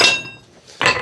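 A long hammer strikes hot metal twice while an axe is being forged, each blow a sharp ringing clang, close and loud, with a brief quiet gap between them.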